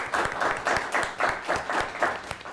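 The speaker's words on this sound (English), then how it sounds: "Let's give them a nice round of applause." Studio audience applause for a high school quiz team on a televised quiz show, a steady patter of clapping with rhythmic surges, moderately loud and close, no talk over it.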